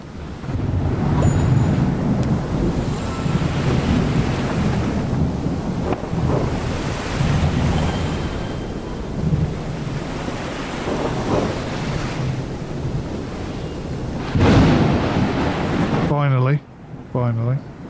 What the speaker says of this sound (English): This storm might be coming to an end.